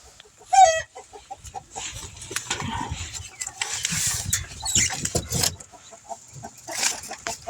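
Chickens cluck and squawk nervously while being moved to an aviary, with one sharp loud squawk near the start and then rustling and scattered clucks close by.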